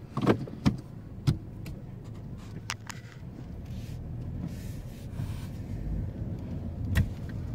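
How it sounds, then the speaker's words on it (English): A car rolls slowly into a space in a hotel parking area at DoubleTree Philadelphia, with a low engine rumble and scattered sharp clicks and thumps from inside the cabin. "now we're gonna put the car in drive and we're gonna go ahead and park."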